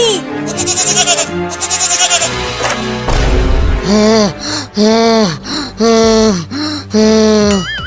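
Loud, repeated cartoon goat bleats in a rapid series of wavering calls as the goat runs from a wolf, set over music with a brief gasping breath in between.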